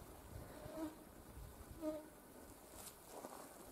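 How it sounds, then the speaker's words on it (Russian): Faint, thin mosquito buzzing drifting in and out against a quiet pine forest background, with no voices. "Прям очень много комаров."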